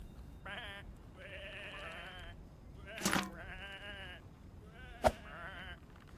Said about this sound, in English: Come on, these are just sheep.